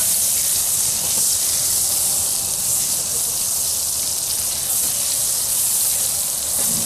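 Fat melts and sizzles in a cast iron pan over a fire, giving a steady, even hiss that holds without a break from start to finish, close and fairly loud.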